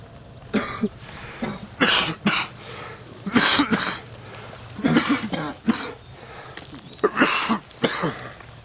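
Repeated coughing fits, a dozen or so harsh bursts in irregular clusters, fairly close, with short pauses between them and no talking.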